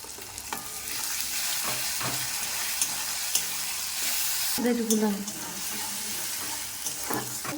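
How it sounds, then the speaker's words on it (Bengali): Chopped tomatoes go into a hot wok with frying onions, producing a steady sizzle and crackle broken by stirring and a few louder scraping and splashing bursts, heard close up. "এবার আমি দিয়ে দেবো টমেটো কুচি।"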